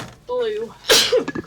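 A person sneezes once, a sharp loud burst right after someone finishes speaking, followed by brief murmuring sounds.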